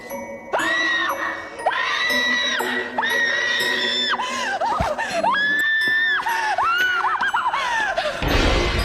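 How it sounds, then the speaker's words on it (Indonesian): A performer at a psychopath-themed show lets out long, loud, high-pitched screams at the sight of blood spattered on the floor, several sustained wails following one another for about eight seconds. "salah satu talent yang berteriak saat melihat darah berceceran di lantai"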